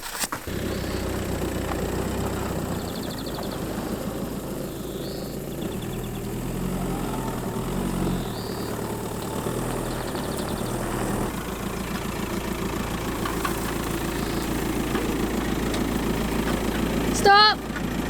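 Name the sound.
Volkswagen Passat car engine running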